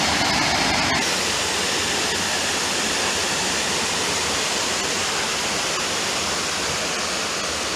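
Water pours over a small built dam that holds it back to feed a pipe running down to a mill, a loud, steady rushing roar that stays constant throughout with no voices.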